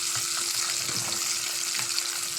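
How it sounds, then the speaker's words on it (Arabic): Fish sizzles steadily in hot oil in a pan, a loud continuous crackle and spatter with occasional soft stirring bumps, close up and without talking. "نقلي السمك"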